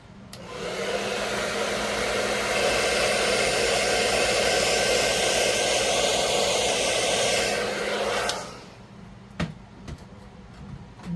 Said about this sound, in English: Yes, that was a blow dryer.